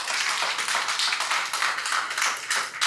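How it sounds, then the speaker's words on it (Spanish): A church congregation claps together, a dense, bright patter of many hands at close range, continuous and fairly loud with no pauses. "Regálele palmas al Señor."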